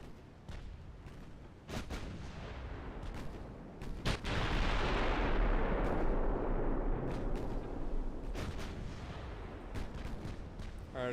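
Heavy battleship casemate guns fire in a naval battle in Ultimate Admiral: Dreadnoughts, a loud sustained barrage of overlapping booms and rumbling blasts that swells near the middle and rolls on with scattered sharper reports.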